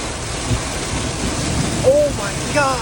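Steady broadband rush of rain and tire noise inside a vehicle on a wet highway running on cheap Atlas Paraller mud-terrain tires, continuous and fairly loud, with a couple of brief high squeaks near the end.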